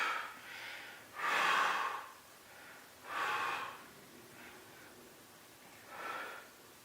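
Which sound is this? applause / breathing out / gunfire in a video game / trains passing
breathing out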